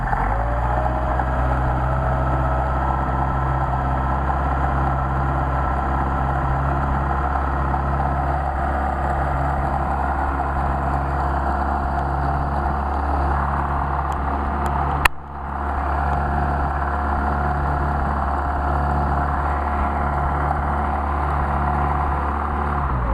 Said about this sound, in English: warm up the engine